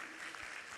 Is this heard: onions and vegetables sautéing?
no